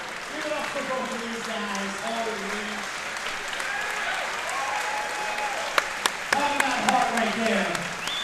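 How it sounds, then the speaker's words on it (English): Crowd at a Hardrock MMA pro fight applauding after a bout, a steady rush of clapping under a commentator's voice, with a few sharp, close claps rising near the end. "I'll even clap it up a little bit, even though I'm not supposed to."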